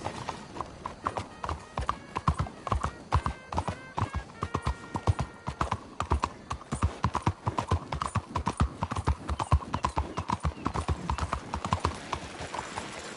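Steady, rhythmic clip-clop of horse hooves on a hard surface in Red Dead Redemption 2, continuous and close, with faint ambient game sounds behind.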